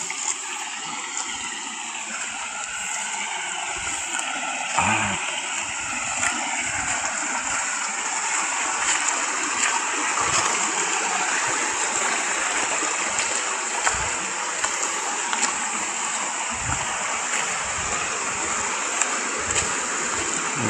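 River water flows steadily and fairly close among large boulders in a Southern Leyte stream, a constant broadband rush with no pauses throughout.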